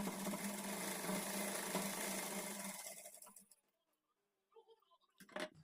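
A sewing machine stitches the edge of blouse fabric in a steady close whir for about three seconds, then fades to near silence before a few faint handling knocks and rustles.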